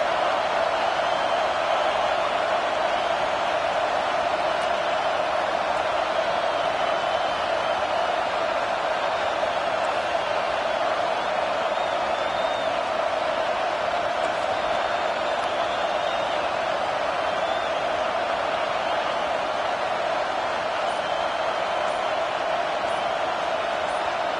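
A college football stadium crowd, likely at a Texas game, keeps up a steady, dense roar that fills the whole stretch without breaks, loud and continuous like a distant wall of noise.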